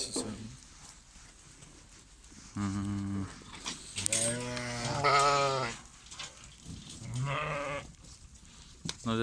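Sheep bleat repeatedly in a farm pen during feeding of sheep and lambs, several loud harmonic calls overlapping from near and slightly farther animals, with a person briefly speaking between them.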